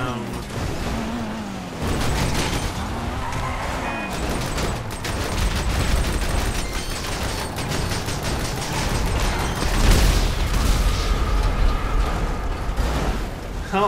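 Explosions and mechanical rumble in the video game GTA 5 Online, a dense roaring stretch of booming blasts and clattering debris with a loud surge near the end, with a voice talking over the game sound.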